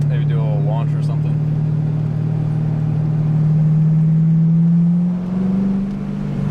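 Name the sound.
C5 Corvette with modified exhaust launching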